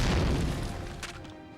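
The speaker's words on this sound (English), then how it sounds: "Sir, this is a Mark II fragmentation hand grenade." A Mark II fragmentation hand grenade goes off as a warning shot in a PlayStation 2 game, a loud close boom that rumbles and fades over about a second, followed by a faint crackle.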